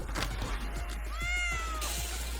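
A cat meows in a drawn-out, wavering cry near the listener, with soft rustling and small knocks around it.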